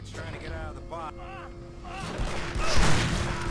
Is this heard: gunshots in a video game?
yes